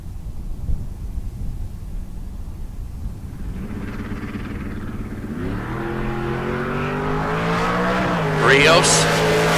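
Drag racing cars, an LS-powered Pontiac Trans Am and a black 1968 Chevrolet Camaro, launch from the line at a bracket race, engines building from a distant rumble to a loud rising roar with tire noise, under crowd and announcer chatter.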